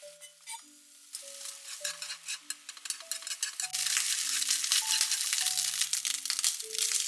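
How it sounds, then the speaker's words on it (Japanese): Chopped bacon fries in a pan, soft sizzling and crackling that builds into a steady hiss, heard close under a gentle melodic music bed. "ベーコンを小さく切って、 フライパンで焼きます。"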